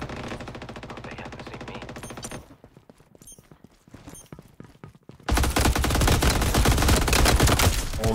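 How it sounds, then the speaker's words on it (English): Loud rapid bursts of AK-47 automatic fire in the shooter Veiled Experts, a dense rattling volley, then a quieter gap of scattered single shots, then another heavy sustained burst close by. "How powerful is the AK-47? Let's see that."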